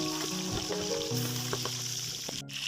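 Rohu fish frying in mustard oil makes a close, continuous sizzle and crackle, joined by some faint tonal background sounds, with no one speaking.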